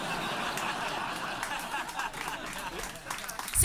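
A comedy club audience at a stand-up gig claps and laughs in a steady, fairly loud crowd wash that carries on throughout, with chuckles and snickers mixed in.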